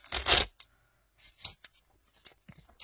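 Brown adhesive tape is ripped from a roll for a paper advent-calendar craft, a loud close tearing burst followed by softer intermittent crackles and pulls as the tape is handled.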